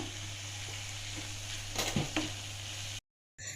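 Steady sizzling of vegetables and green chillies sautéing in a pan for veg kurma, with a brief burst of stirring clatter midway before the sound cuts out.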